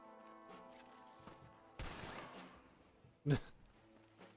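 Gunfire in the Red Dead Redemption video game: a broadband burst of shots at mid-distance, then a single loud close crack near the end, set against game music and ambient tones.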